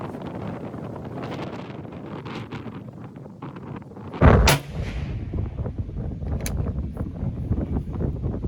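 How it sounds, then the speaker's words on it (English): A single loud rifle shot from a 1903A3 firing a 168 grain Hornady match load cracks out midway through steady outdoor wind noise on the microphone, followed by a brief lingering report. "with that last shot there, that's going to conclude my load testing for the 168 grain Hornady match load"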